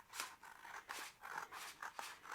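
Scissors snip through paper for a homemade sketchbook, a short run of crisp, close cuts in quick uneven rhythm, fairly quiet and without talk.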